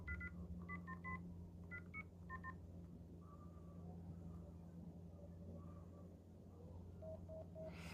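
Telephone keypad dialing tones, a run of short DTMF beeps in quick bursts followed by a few later tones, faint against a low steady hum, with no talking.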